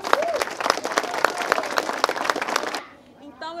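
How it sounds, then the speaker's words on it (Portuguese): Applause from a crowd at a teachers' strike rally, dense steady clapping for about three seconds that then cuts off sharply, leaving quieter background voices. "eu queria pedir uma salva de palmas para todos nós"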